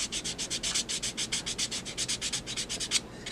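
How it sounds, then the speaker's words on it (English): Sandpaper rubs rapidly across the face of a Blythe doll, steady back-and-forth scratchy strokes heard close and quiet with no talking. "I'm also sanding off a little bit of the sharpness of the ridge here,"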